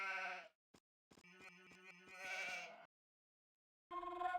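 Sheep bleating in Age of Empires II: several clear, close bleats in short bursts separated by silence, one longer wavering call in the middle and a final bleat at the end.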